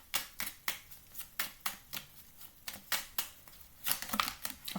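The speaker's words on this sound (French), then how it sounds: "le temps que je mélange, si quelque chose qui vous préoccupe, je vais tirer une carte." A deck of Merlin oracle cards being shuffled by hand, giving a steady run of soft, quick papery clicks and riffles, close and fairly quiet, with a slightly busier flurry near the end.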